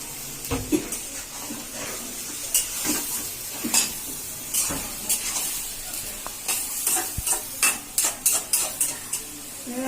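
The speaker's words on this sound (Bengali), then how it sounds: "এখন মাছ ভাজবো।" Fish fried in a pan, tilapia among the small fish, gives a steady sizzle broken by frequent scraping stirs and clinks of a utensil against the pan, with no talking.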